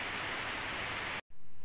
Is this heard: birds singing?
no